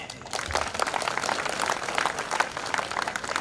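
An indoor audience claps in steady, dense applause at a Hindi public speech, many hands close and moderately loud for several seconds with no talking over it.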